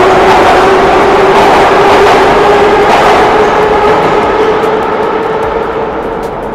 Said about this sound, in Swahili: Hizi ni treni ambazo zimejengwa mwaka 1938, ndio maana unaona bado zinapiga kelele sana.